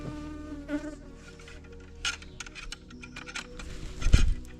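Housefly buzzing near the microphone in a village in Nagaland, a thin whining drone that comes and goes with a few louder close passes and a soft thump near the end.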